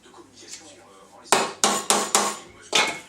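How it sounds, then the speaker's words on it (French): A small wooden block knocks against a part of a Suzuki GSX-R 750 K2 motorcycle during a chain kit fitting, giving five sharp, close taps in an uneven rhythm after a quieter lead-in. "Une petite cale en bois pour taper."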